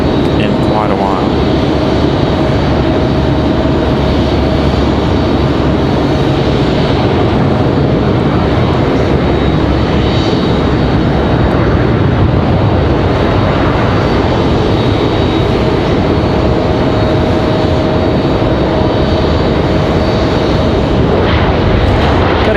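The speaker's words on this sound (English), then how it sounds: "A United A319 touching down." A United Airbus A319 touches down on the runway at Raleigh-Durham International Airport, its engines roaring loudly and steadily for the whole stretch with a faint tonal whine, while someone talks over it.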